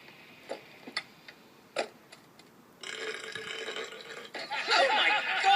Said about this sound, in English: That was such a hot burp.